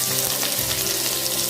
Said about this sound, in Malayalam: ഇനി നമുക്കതിലേക്ക് നമ്മൾ നേരത്തെ മാറ്റി വെച്ചിട്ടുണ്ടായിരുന്ന സവോള ഇട്ട് കൊടുക്കാം.